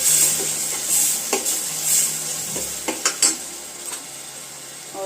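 Tomatoes tossed into fried rice in a hot pan, a steady close sizzle with scattered spoon scrapes and knocks against the pan.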